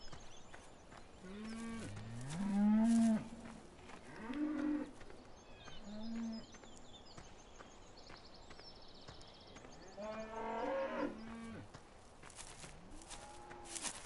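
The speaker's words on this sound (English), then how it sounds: "They're full of cows." Cows in a PS4 farming video game moo repeatedly, with several drawn-out calls spaced a few seconds apart, a faint clip-clop of hooves and a quieter stretch in the middle.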